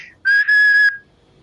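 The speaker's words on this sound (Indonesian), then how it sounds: "katakanlah kita bersiul misalnya" A single steady, high-pitched human whistle held for under a second, clear and close, with faint background hiss before and after.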